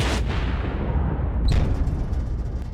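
Heavy rumbling blasts fill the whole stretch in Ukraine, with a sharper boom about halfway through, like distant explosions or artillery.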